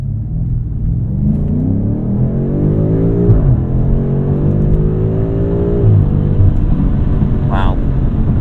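A 2021 BMW F90 M5 accelerates at full throttle from a rolling start, its deep engine note climbing steadily through two rising sweeps with a brief shift break between them, loud and close from inside the cabin, with a voice speaking over it.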